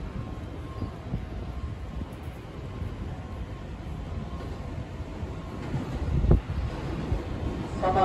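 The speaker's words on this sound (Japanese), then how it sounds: "3番線を列車が通過中です。" A JR 209 series MUE-Train passes through platform 3 at Tsudanuma station with a continuous broad rumble and airy rush. It swells to a louder surge near the end.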